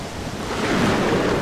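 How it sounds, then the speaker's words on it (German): High ocean waves in a storm, staged as a radio play effect: a continuous roaring wash of surf with wind, steady and loud, swelling a little toward the end, with no voices. "Die Wellen sind schon ganz schön hoch."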